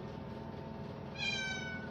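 A cat gives a single drawn-out meow, close and clear, rising out of a quiet indoor background in a kitchen where quesadillas are being cooked.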